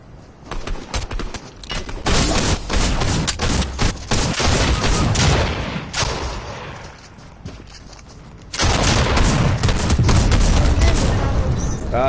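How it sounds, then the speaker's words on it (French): Rapid, sustained gunfire crackles from another player in a Fortnite match, dense bursts of shots and booming impacts nearly continuous, dipping briefly before a loud renewed volley, with game ambience and no speech. "Il y a un autre qui tire de l'autre côté là."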